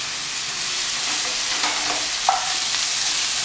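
Egg bhurji with tomato, capsicum and ginger cooking in a pan, a steady close hiss of frying with a faint stir or two, no voices.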